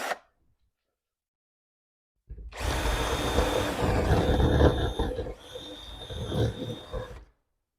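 After a brief silence, a power drill whines loudly for about five seconds, its motor pitch dipping once under load before stopping, while working on a custom Smith Miller rodeo toy truck.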